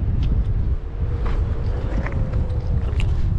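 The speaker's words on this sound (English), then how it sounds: "That pass got windy." Strong wind in a mountain pass batters the microphone with a heavy, continuous low roar that swells and dips in gusts, loud and close, with no voices.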